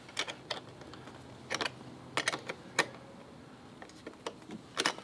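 A small tool works the terminal nut on a driving light wiring loom, producing a series of quiet, close clicks and ratcheting ticks in irregular bursts.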